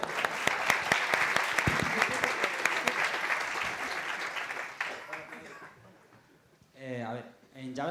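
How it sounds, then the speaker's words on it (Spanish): A conference audience at a JavaScript talk applauds a hostess with dense, loud clapping that gradually thins and fades, followed by someone speaking. "Un aplauso mientras tanto a nuestra azafata."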